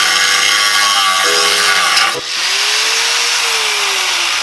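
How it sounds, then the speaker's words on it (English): An angle grinder grinds the threads off a bolt on a turbo kit for a KA-engined 240SX, a loud, close, continuous whine that dips for a moment and then climbs back in pitch as it bites into the metal. "I'm gonna take the angle grinder and just grind the threads off"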